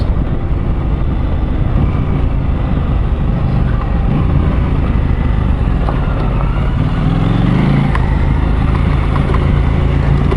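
A motorcycle rides along a bush road, its engine drone and wind rush forming a loud, steady, unbroken roar throughout with no voices.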